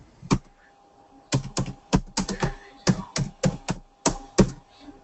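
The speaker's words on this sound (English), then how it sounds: "She's typing." Keys clack on a computer keyboard in uneven bursts of taps with short pauses between, close and crisp, with no talking over them.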